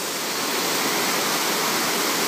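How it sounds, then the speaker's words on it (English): Water pours steadily over a river weir spillway, a loud continuous rushing roar with no letup and no voices. "I hope you can hear me over the sound of that water"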